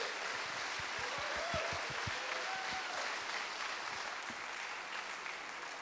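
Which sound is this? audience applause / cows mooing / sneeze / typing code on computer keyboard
audience applause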